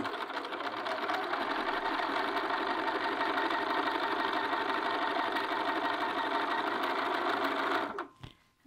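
A sewing machine back-tacks and stitches along a garment neckline in one continuous, even run of rapid needle strokes for nearly eight seconds, close and clear, then stops abruptly with a small click.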